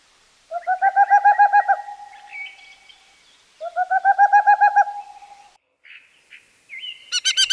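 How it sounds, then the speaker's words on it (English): An owl hoots in two loud, close bursts of rapid pulsed calls separated by silence, with a few fainter higher chirps in between and at the end. "Owl."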